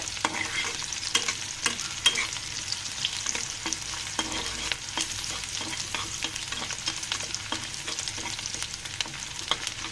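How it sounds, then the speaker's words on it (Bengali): Chopped onion and garlic fry in a pan until brown, a constant sizzle with repeated scraping stirs and light clicks of a utensil, no voices. "ভালো করে আমি ভেজে নেব ব্রাউন কালার হওয়া পর্যন্ত"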